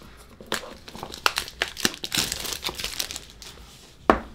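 Crinkly plastic packaging around a Ulanzi camera stand crackles and tears in a burst of close, sharp rustles, with a final loud crunch near the end.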